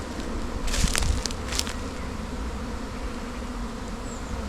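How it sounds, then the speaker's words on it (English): A swarm of honey bees buzzes steadily around a hive, a dense continuous drone close by with a few brief louder passes near the start. "And there are tons of bees"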